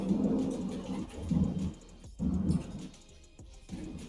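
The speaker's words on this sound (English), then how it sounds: "As you can probably hear, that is the thunder and the lightning." Thunder rumbles during a storm, a low rolling roar that swells and fades in several waves at moderate loudness, with rain hiss beneath it and no talking.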